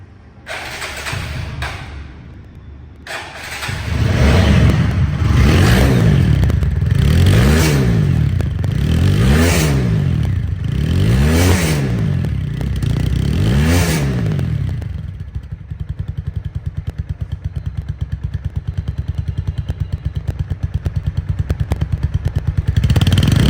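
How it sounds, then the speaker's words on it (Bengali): A 2023 four-valve motorcycle engine with ABS idles and is revved repeatedly in several rising-and-falling bursts, close and loud, then settles into a steady running idle. "এখন বাইকটির সাউন্ড কোয়ালিটি শোনাবো"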